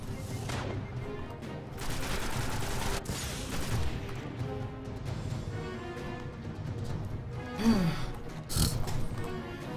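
Gunfire from the video game Destiny on PS3 crackles in repeated bursts, with scattered sharp shots and impacts layered over a steady mix of game noise at low level.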